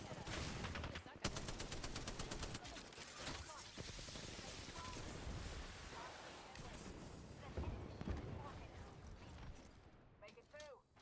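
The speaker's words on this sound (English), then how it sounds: "That's another squad shooting at us." Enemy squad gunfire in the Apex Legends battle royale, sustained bursts of automatic shots crackling through a dense, busy mix of game sounds, with voices talking over the firefight throughout.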